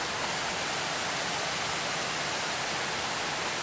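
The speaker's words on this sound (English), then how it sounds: "You can hear the water." Rushing water from a waterfall in Pisgah National Forest gives a constant, full hiss and roar. It stays level and continuous from start to finish, with no one speaking.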